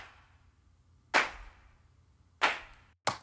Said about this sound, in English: here we have a hand clap